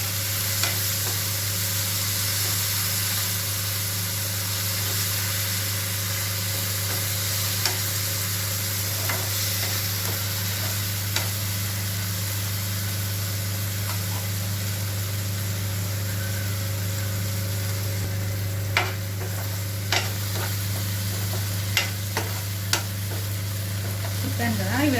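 Tomatoes fry and sizzle steadily in a pan for a fried-piece chicken dum biryani, with occasional scrapes and clinks of stirring over a constant low hum, no talking.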